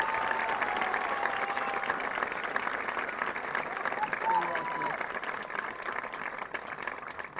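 Sustained applause from the audience at the Newark High School Class of 2022 graduation ceremony, a soft, even wash of clapping that carries on for several seconds in a large hall.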